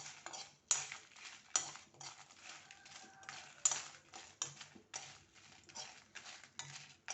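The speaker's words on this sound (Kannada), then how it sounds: "ಸಾಸಿವೆ ಸಿಡಿತಾ ಇದೆ ಚಟಪಟ ಅಂತ" Mustard seeds splutter in hot oil, sharp irregular pops and crackles rising in bursts over a soft frying hiss, close by and fairly quiet.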